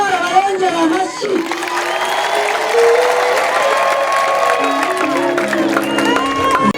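Audience applause and cheering from a crowd, a sustained wash of clapping with shouts, under a singing or speaking voice and music throughout.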